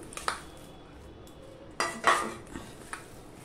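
Poha and mashed potato handled in a bowl, with a few clinks and scrapes of a utensil against the dish at irregular moments, close and moderately loud.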